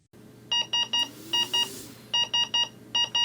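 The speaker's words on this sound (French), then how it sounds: "Une alarme de haute priorité est signalée par 3 signaux suivis de 2 autres." High-priority alarm on a Vivo 65 ventilator: clear electronic beeps in groups of three then two, repeated, over a low steady hum.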